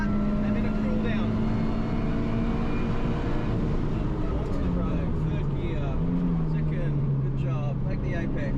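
A Toyota 86 engine pulls hard at full throttle on a race track, a loud steady drone that rises and dips in pitch through the lap, with a voice talking over it.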